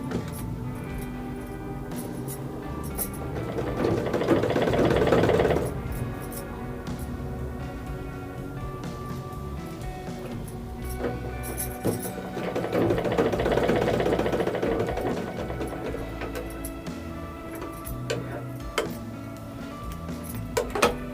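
A tailoring sewing machine runs in two steady whirring bursts of stitching, each a few seconds long, with clicks, clatter and a low mechanical hum between them.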